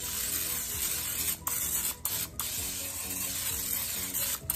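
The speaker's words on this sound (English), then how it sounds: "So I'm going to spray it down." A steady aerosol cooking spray hisses continuously at close range into a Bundt pan, broken by a few brief pauses, with no voices.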